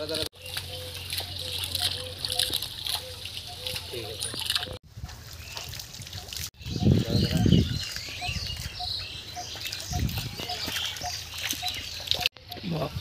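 Hands splash pond water at an outdoor bathing pond, with repeated irregular splashes and trickles, close and fairly loud, under frequent casual voices and occasional birdsong.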